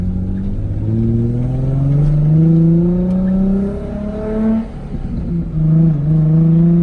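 A Nissan 350Z engine, just repaired for a sticky clutch, revs up loudly from inside the car, pitch rising steadily through a gear, dropping briefly at a shift, then pulling again.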